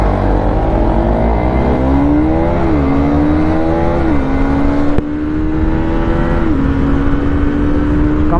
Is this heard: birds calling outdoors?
no